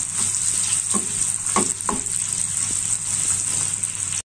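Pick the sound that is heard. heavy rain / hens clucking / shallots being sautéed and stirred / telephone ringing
shallots being sautéed and stirred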